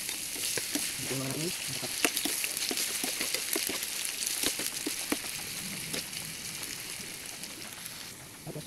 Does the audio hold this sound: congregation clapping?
no